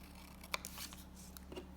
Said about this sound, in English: I wanna cut these shorter